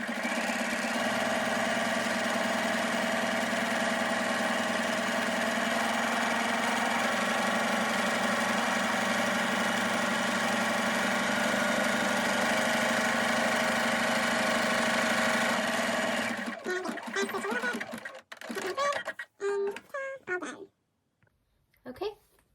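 A sewing machine stitches pillowcase fabric in a steady, unbroken motor whir for about sixteen seconds, then stops and gives way to scattered clicks and handling noises.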